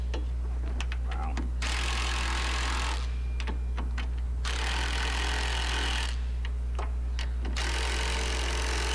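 A Ridgid power gun tightens the torsion arm spring bushing bolts on a classic VW Beetle, firing in three loud, rattling bursts with quieter pauses between them over a steady low hum.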